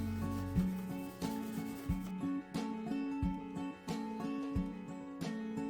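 Steady rubbing and scrubbing as stain is applied to the wood of a guitar body with an applicator, in repeated back-and-forth strokes, close and fairly loud, with no voices.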